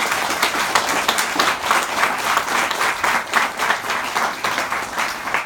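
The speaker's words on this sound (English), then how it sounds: "if you guys would just join me in a round of applause" An audience claps in sustained, dense applause, a steady close patter of many hands rising and falling slightly throughout.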